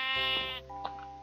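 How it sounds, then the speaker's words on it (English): A black sheep in One Block Skyblock lets out a single clear, close bleat lasting about half a second, followed by a faint soft chime-like sound. "So I have a sheep."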